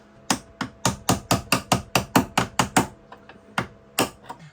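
A hammer strikes seized hinge pins on a boat in a fast run of about a dozen sharp metallic blows, then several scattered, lighter hits, loud and close with no talking.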